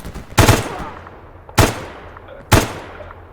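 Three sharp AK-74 rifle shots ring out in the Escape From Pripyat video game, spaced roughly a second apart, each loud crack followed by a short trailing echo, with no talking.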